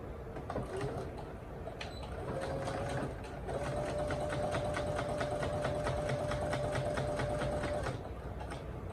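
A sewing machine stitches a gift card holder slowly, running steadily for several seconds with a brief pause partway through for back stitching, close and fairly loud over faint background noise.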